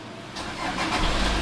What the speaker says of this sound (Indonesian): Oke, mobil udah nyala.